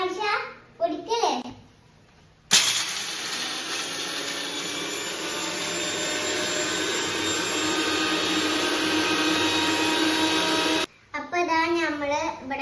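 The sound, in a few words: electric mixer grinder grinding ingredients for summer drink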